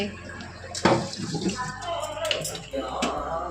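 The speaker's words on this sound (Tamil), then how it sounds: "நல்லா அரிசி வந்து நல்லா கழுவணும்" Rice being washed by hand in water, close sloshing and swishing with splashes, while a person talks softly over it.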